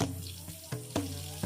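Spring water flows freely from a natural source at a remote settlement, a steady close trickle and splash running alone with a few louder gushes.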